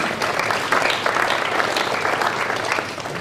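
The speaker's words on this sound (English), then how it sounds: "Give him a round of applause." Loud, close audience applause at a Mothers Milk Bank charity auction as a speaker is brought up, a dense burst of clapping with light crowd noise.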